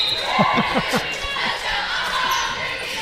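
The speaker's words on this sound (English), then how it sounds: "I like the person yelling in the crowd, don't foul." A spectator yelling from the crowd at a girls high school basketball tournament game, a loud shout above crowd noise, with a quick series of ball bounces on the court at the start.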